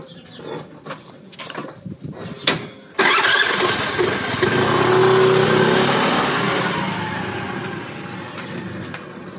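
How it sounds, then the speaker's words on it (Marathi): A car engine cranks and catches after some scattered knocks and thumps, then revs up loudly and settles into a strong, steady running drone close by. "हे गाडी पळव जरा"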